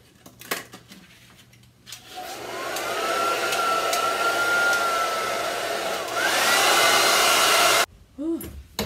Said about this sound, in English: right now I'm just blow drying it